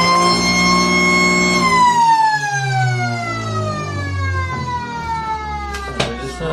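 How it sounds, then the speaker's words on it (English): A loud, sustained end-of-match siren at an Australian rules football ground wails on one held tone, then slides steadily downward in pitch as it winds down, with faint crowd noise beneath. "There goes the bell for the siren."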